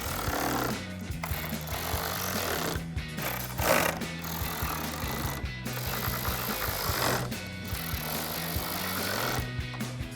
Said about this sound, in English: Throw your ratchet on the other side and tighten those all down.